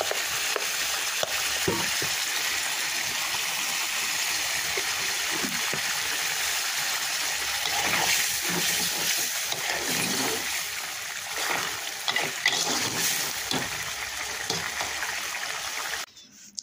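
Lau chingri, a bottle gourd and shrimp curry, cooking in a pan after roasted cumin powder is added: a steady close sizzle and bubbling with wet splashes and occasional stirring scrapes, continuous for the whole stretch and ending abruptly.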